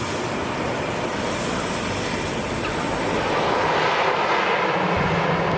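A fixed-wing airplane lands at Lukla Airport, its steady engine roar filling the whole stretch at a loud, close level and swelling slightly toward the end.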